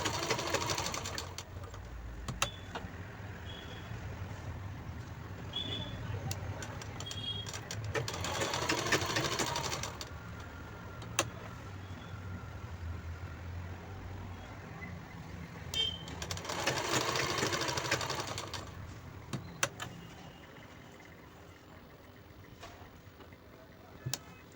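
A sewing machine stitches fabric for a peplum top, with two bursts of fast whirring several seconds long separated by quieter stretches of soft clicks and handling noise, close by.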